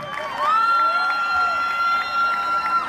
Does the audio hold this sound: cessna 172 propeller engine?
no